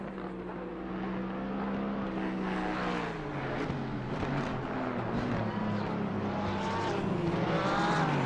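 A Lexus race car with driver Jardine on board, racing at the Misano circuit in dry conditions, its engine droning steadily and rising and falling in pitch as it passes, loud and continuous with no talk.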